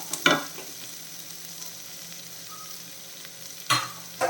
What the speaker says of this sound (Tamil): இதில் ஒரு பெரிய வெங்காயத்தை கட் பண்ணி வச்சுருக்கிறேன் இந்த மாதிரி நெய் சேர்த்துறேன் சேர்த்துட்டு வதக்கிடலாம்